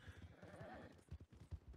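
Horse hooves clip-clopping in a western roleplay video game, a steady close trot with a brief whinny in the middle, fairly quiet with no talk over it.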